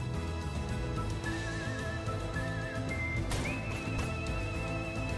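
A horse neighs in a Roblox video game, with several wavering whinnies rising and falling over busy game sound and music, fairly quiet in the mix.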